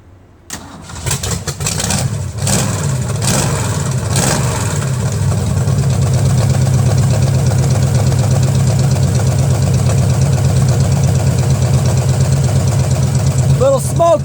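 A track Jeep engine cranks and catches, revs briefly, then settles into a steady, loud, slightly smoky idle that runs on evenly; a voice speaks over it near the end.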